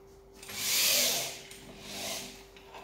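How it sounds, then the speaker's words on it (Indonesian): A power drill whirs up in a long high-pitched burst, pauses briefly, then spins again more softly, close at hand. "Kita putar bor."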